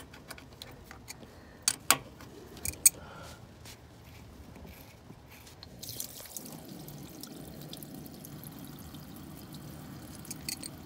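Water drains out of the knock sensor hole of an Indmar Monsoon inboard ski boat engine during winterizing, starting as sharp scattered drips and changing to a soft continuous trickle after about six seconds, with no voices.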